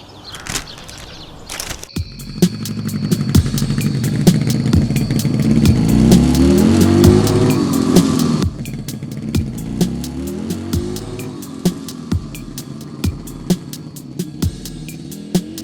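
A motorcycle engine runs up with a rising rev that swells for several seconds, then settles into a steady idle ticking with sharp mechanical clicks, fairly close and alone without talk.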